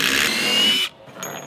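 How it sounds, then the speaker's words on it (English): Power tool driving a lag bolt into a deck railing post for a Regal Ideas railing, a loud close whirring burst that stops abruptly, followed by a faint brief whine. "Just putting in some lag bolts for this Regal Ideas railing"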